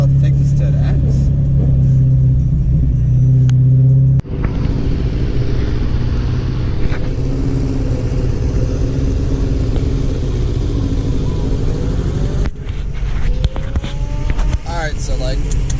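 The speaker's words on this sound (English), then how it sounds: "I'm stuck in traffic tremendously" Heavy traffic at Myrtle Beach Bike Week in South Carolina: a dense, continuous engine rumble of cars and motorcycles, close and loud throughout, with a voice talking over it.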